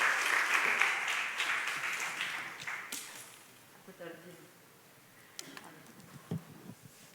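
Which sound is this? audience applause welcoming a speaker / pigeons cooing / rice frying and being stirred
audience applause welcoming a speaker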